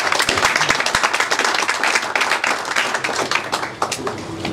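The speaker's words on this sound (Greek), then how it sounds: "Ένα χειροκρότημα." An audience at a Greek political talk claps for an introduced guest, loud close crisp applause with sharp individual claps throughout.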